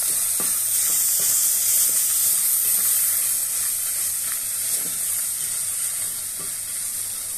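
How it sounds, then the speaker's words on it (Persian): Turmeric and split peas sautéing in a pan for Persian gheymeh with eggplant, giving a steady loud sizzle and frying hiss with intermittent stirring scrapes, no talking. "زردچوبه همون تفت داده شد"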